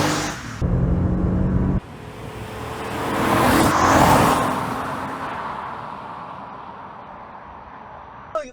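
V6 car engine roaring as the car accelerates, a loud close burst that cuts off abruptly, then a swelling rush that peaks and fades as it passes, with no talking.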